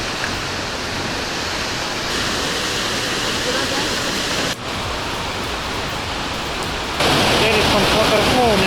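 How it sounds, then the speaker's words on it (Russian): Elephant Waterfall near Dalat, Vietnam, a steady, dense roar of falling water close by, with a brief dip and then a louder surge near the end, and faint voices underneath. "Вот так вот мы спускаемся к водопаду Elephant."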